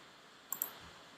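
A computer mouse gives two quick, faint clicks in close succession, sharp and light against a quiet background with no talking.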